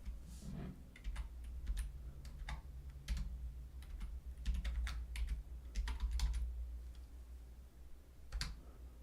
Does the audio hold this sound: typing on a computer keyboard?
yes